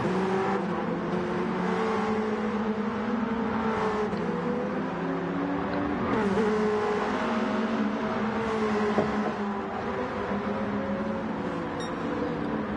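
BAC Mono race cars in a sprint race on a track, their engines droning loudly and continuously with shifting pitch as they hold speed, and no talking.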